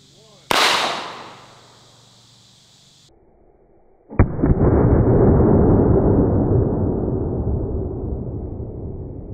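Live ammunition cartridge exploding in a single sharp, very loud blast up close, ringing off briefly before a second heavy burst and a long roaring, decaying rumble.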